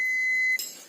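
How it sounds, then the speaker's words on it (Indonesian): A steady, high electronic tone from a multimeter's continuity buzzer sounds when the probes touch a connected cable wire, holding for about half a second before cutting off into faint hiss. "Kalau kita ukur bunyi tut, berarti kabel tersebut masih nyambung."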